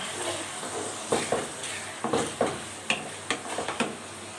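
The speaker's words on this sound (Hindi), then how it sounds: "अदरक और लहसुन को भी हम अच्छे तरीके से इसमें भून लेंगे घी में, प्याज़ों में" Ginger and garlic sauté in ghee with onions, a soft close sizzle with a run of sharp spoon-scraping stirs in the second half.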